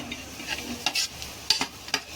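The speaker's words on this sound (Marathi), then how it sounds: "ते कांदे आता भाजायला टाकत आहे तव्यावर" Three chopped onions sizzle on a griddle while a spatula scrapes and stirs them in a few sharp, irregular strokes.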